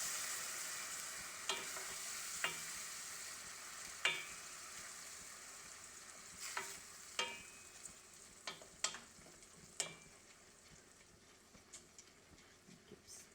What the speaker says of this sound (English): Keep stirring. I'm gonna put a little bit more liquid to it.